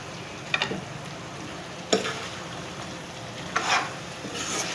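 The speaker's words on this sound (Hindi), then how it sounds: "अब 1 कप छोले डाल के उसको भी इसी में भून लूँगी मैं।" Boiled chickpeas are roasted in cooked masala in a pan, making a soft, quiet sizzle with a few sharp spoon-scraping stirs spaced apart.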